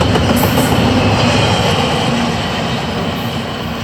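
A heavy Norfolk Southern freight train rumbles past close by, a steady loud roar of wheels on rails with faint clanking, easing slightly toward the end.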